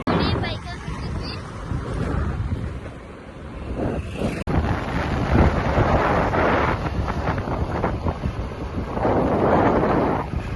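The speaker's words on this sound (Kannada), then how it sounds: "ನೋಡಿ, ಬೈಕ್ ಹೊಂಟಿದ್ವಿ." Wind buffeting the microphone during a motorbike ride to a village bakery, a loud, continuous rushing roar with rumble throughout, briefly cut midway, and a voice speaking over it.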